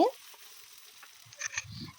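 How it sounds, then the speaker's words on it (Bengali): Onion and green chilies fry in oil in a pan, a soft steady sizzle with occasional stirring scrapes, busier toward the end. "এটা ব্রাউন করে ভাজা হলে কাঁচামরিচ দিয়ে দিলাম ওটা হালকা ভেজে নেব"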